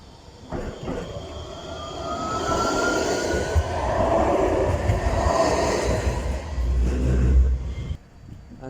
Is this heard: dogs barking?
no